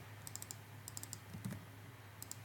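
Computer keyboard keys pressed in short clusters of quick clicks for copy-and-paste shortcuts, with faint tapping in three separate bursts against a low steady hum.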